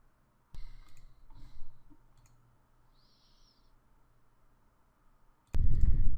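A single sharp mouse click confirms an import dialog in Inkscape on a computer, heard once, crisp and isolated after a brief stretch of quiet room noise.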